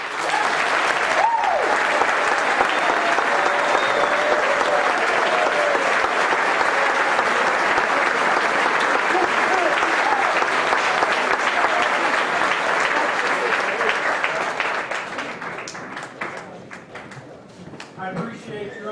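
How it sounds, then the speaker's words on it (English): Sustained loud audience applause for two candidates at a school assembly, a dense wash of clapping that gradually thins and fades near the end. "I think that both of these candidates deserve another round of applause."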